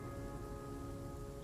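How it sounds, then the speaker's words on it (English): Steady rain pours down in the survival game The Flame in the Flood, a dense continuous hiss with a low rumbling bed beneath, unbroken throughout with no voices. "it's constantly raining now"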